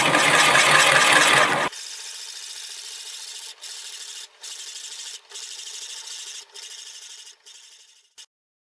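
A lathe-mounted wood bowl blank is bored with a 1¼ inch bit, opening with a loud grinding, rasping burst that gives way to a quieter hiss broken by repeated short pauses, then stops.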